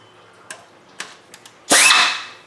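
A wrench breaks loose an E8 inverted Torx bolt on a Dodge/Chrysler/Jeep 3.6 oil filter housing: a few light ticks, then one sharp, loud crack with a brief fading ring, close by.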